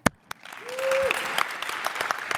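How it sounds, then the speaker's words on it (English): A conference audience applauds two speakers, a burst of clapping that swells after a couple of sharp claps and continues steadily, with a brief tone and voices underneath. "let's all give a huge round of applause to Lynn Root and Noa Resare."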